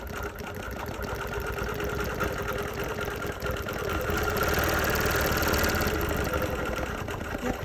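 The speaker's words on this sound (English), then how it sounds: "And it'll start stitching." A Bernina Q24 longarm quilting machine stitches steadily with a continuous mechanical whir and fast rhythmic needle chatter, close and fairly loud, swelling slightly midway, with no talking.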